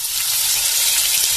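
Food frying in a pan gives a steady, close, loud sizzle of hissing oil throughout, with a brief louder crackle at the very end and no voices.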